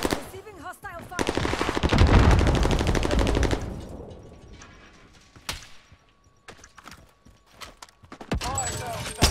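Sustained automatic gunfire rattles loudly in Call of Duty Warzone, a long rapid burst that fades into scattered single shots and echoes, with a voice speaking over parts of it.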